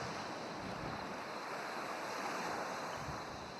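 Ocean waves break and wash in a continuous, soft roar of surf with wind, steady and distant, with no voices.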